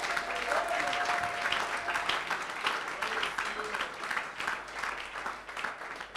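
A church congregation applauds steadily during a Sunday worship service, dense sustained clapping filling the room with voices faintly mixed in.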